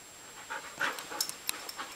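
Sick dog lying in her kennel, panting in quick, soft, breathy bursts with a faint whimpering edge, close but quiet and alone.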